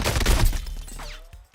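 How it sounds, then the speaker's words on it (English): A rapid burst of close gunfire in an esports video game match fades out, followed by a thin rising tone and a couple of soft thuds. "I'm pretty sure he just got shot."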